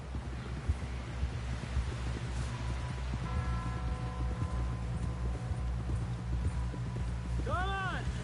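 A horse gallops in Red Dead Redemption 2, its hooves clip-clopping in a steady rhythm at moderate distance under wind and background ambience, with voices talking over it.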